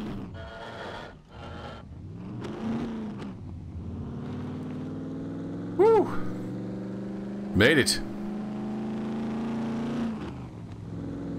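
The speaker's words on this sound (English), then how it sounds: "This truck sounds good." A truck engine in the video game SCUM drives and revs, a steady droning motor that climbs in pitch, with someone talking and exclaiming over it and a couple of sharp sweeping effects mid-way.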